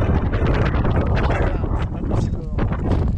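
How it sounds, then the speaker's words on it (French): Strong wind buffeting the microphone in loud, rumbling gusts over grassy hills in Northland, New Zealand, with a voice briefly heard beneath the roar. "Regarde ce vent."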